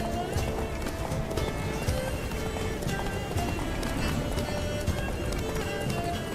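Roach, the horse in The Witcher 3 video game, gallops with a rapid, steady clip-clop of hooves, loud and continuous. Game music and effects play underneath.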